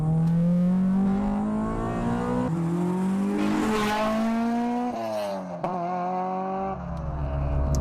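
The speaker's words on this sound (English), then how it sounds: "who cares when it's got crossover noises like this" A revving Honda Civic Type R EP3 engine, close and loud, climbing in pitch through the gears with a throaty intake note and brief drops between shifts.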